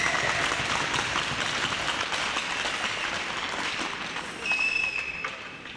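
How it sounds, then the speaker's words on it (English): Crowd at an ice hockey finals event breaks into steady applause, dense clapping sustained throughout and easing slightly toward the end, with a brief faint whistle near the close. "If we can have a round of applause for the fans,"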